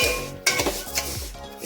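Rice and dal being stirred in mustard oil in a pot for a niramish khichuri, with repeated scraping strokes and clinks of a utensil against the pot over a soft sizzle, close and fairly loud.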